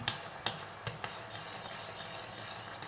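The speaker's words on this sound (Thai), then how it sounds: "เคี่ยวให้มันคนๆนิดนึงก็ ได้แล้วไป ปิดไฟ" Coconut milk sauce with butter simmering in a pot, stirred with a utensil: a few light scraping clinks near the start over a soft, continuous bubbling hiss.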